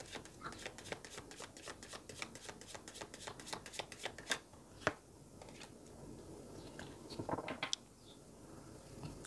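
Tarot cards being shuffled by hand during a reading: quiet, rapid, continuous riffling and snapping of the cards, close and faint, with a few sharper card slaps near the end.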